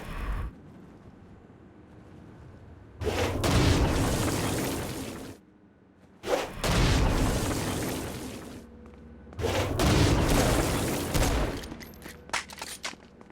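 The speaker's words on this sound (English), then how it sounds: "Stone Blast is especially useful on flying demons like this one." Stone Blast explosions from the video game Saints Row Gat out of Hell fired at a flying demon: three loud, roaring bursts a few seconds apart, each rumbling for about two seconds, with no talking over them.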